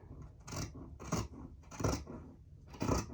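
Scissors cut through a bias-cut cowl neck pattern piece in four separate snipping strokes, each a short crisp rasp close by, with quiet gaps between and no speech.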